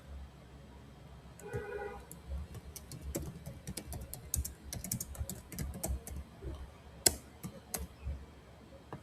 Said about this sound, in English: you can type that out there